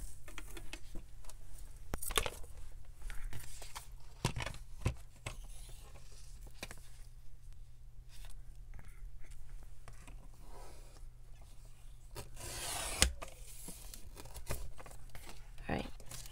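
Scissors trim the edge of a paper sheet while making French lady envelopes for junk journals, with quiet snipping and paper rustles spread through the clip and occasional louder crinkles.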